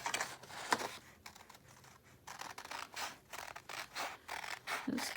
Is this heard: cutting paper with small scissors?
yes